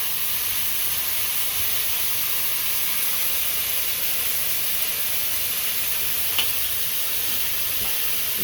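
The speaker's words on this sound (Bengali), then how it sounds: "তো মাছের তরকারি রান্না করতেছে।" Fish curry cooks in a pan on a morning kitchen stove, a steady, even sizzle and hiss running unbroken throughout, close and fairly loud with no voices.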